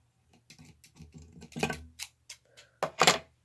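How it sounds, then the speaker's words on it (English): Crisp, close scissor snips cut through material in a short, uneven series of sharp clicks. "snip the excess off"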